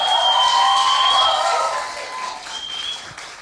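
A studio audience gives sustained, even applause through most of the clip, loud and steady before easing slightly toward the end, with a faint tone running underneath.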